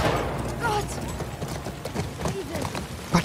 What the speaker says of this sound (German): das Pferd hat kein Problem damit